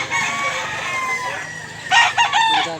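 Chickens and roosters crow and cluck at a cheap poultry market in Mantalungon, Cebu, with a louder burst of crowing near the end over a steady bed of market noise.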